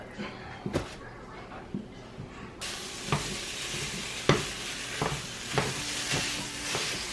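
Food browning in a frying pan for a family dinner sauce gives a steady broadband sizzle, joined by a stronger hiss partway through, with periodic scrapes and clacks of stirring at moderate loudness.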